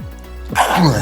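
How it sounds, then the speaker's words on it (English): A single abrupt sneeze bursts out close to the microphone after a moment of quiet. "that was a sneeze"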